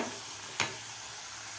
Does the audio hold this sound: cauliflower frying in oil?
yes